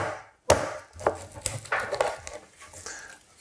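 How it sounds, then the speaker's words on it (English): A knife cuts across a skinned rabbit carcass being jointed, a few sharp chopping knocks and cutting sounds close up, separated by short pauses. "So what I want to do is just cut just across here"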